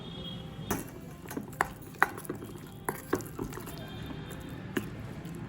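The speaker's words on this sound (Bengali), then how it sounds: "এবার সবটা একসাথে খুব ভালো করে মিশিয়ে নেব।" Close by, a poppy-seed and spice paste with a little sugar is mixed by hand for stuffing flat beans, giving soft irregular squishes with scattered light clicks and taps against a bowl over a faint background hum.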